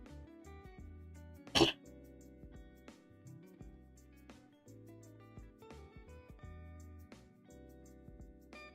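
A single sharp cough or throat-clear from congestion at the back of the throat during a cold, loud and close, over soft steady background music.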